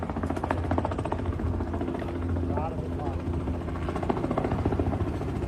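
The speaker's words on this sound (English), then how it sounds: "So let's see what it looks like when they finally caught Ed and airlifted him out of the pasture in Tennessee." A helicopter hovers and lifts a zebra out of a pasture in Tennessee, its steady rotor thump and engine drone filling the scene while voices talk over it.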